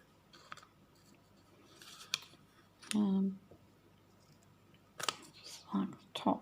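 Scissors snip a paper figure out for a junk journal, close and quiet, in short scattered cuts mixed with paper rustling and soft handling noises.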